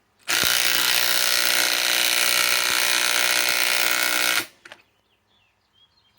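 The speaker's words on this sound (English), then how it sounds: "try the 921. Let's see if I can finish putting this in." A DeWalt Atomic DCF921 impact wrench runs in one continuous loud burst of about four seconds, a dense rattling hammer at close range, then stops, leaving faint handling clicks.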